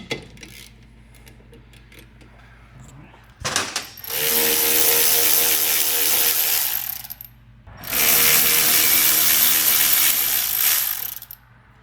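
A wrench loosens the 16 mm caliper pin bolts on a 2002 Pontiac Firehawk during a brake upgrade, giving two long bursts of rapid ratchet clicking separated by a short pause, close and loud.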